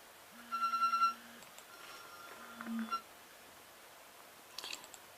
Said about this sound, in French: c'est mon réveil qui sonne sur mon portable